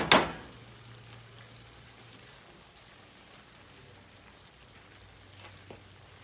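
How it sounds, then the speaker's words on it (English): Stock at a rolling boil in a pan of pot roast makes a soft, steady bubbling and faint sizzling hiss, starting with a sharp clatter and continuing quietly with occasional light pops. "you got a rolling boil going with this stock"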